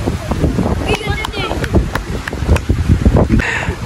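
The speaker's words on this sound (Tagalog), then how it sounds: "Oh my God, ang lakas ng hangin" Strong wind buffets the microphone at a seaside baywalk in Padre Burgos, Quezon, a steady loud rumble with gusty bursts, mixed with people talking nearby.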